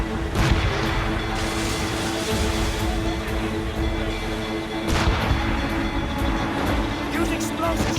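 Ship cannons boom during a naval battle in Assassin's Creed Rogue, heavy blasts rolling over constant wind, waves and battle noise, with shouted crew voices throughout.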